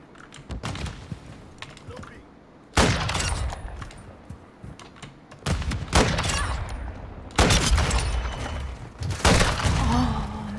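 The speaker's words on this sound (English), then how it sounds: "Toss a grenade." A grenade blast and bursts of gunfire in Modern Warfare 2 gameplay: sharp clicks at first, then several loud broadband explosive bursts and rattling shots recurring across the clip.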